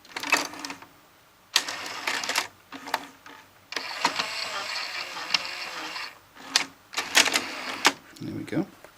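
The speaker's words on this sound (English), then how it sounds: "So this will now eject number 3." A Sony HTC-NX1 CD changer whirs and clicks mechanically as it ejects the disc from slot 3, in several bursts broken by short pauses, close up.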